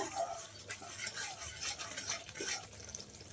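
Spices for a taro kofta curry gravy get stirred and sautéed in a pan, a spoon scraping and clinking against the metal in a soft, uneven rhythm over a faint sizzle.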